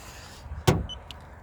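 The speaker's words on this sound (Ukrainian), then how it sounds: "за шум тому що їздять автомобілі попри дорогу." A car passes on a roadside road beside a parked van, a single brief whoosh that rises and fades within a second against quiet background hum.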